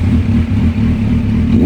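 A Kawasaki Z900 motorcycle fitted with an Arrow exhaust revs loudly and close by, a deep, steady rumble holding at high level with slight surges and no talk over it.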